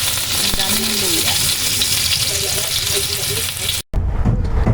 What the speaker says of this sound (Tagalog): Igisa na natin ang luya.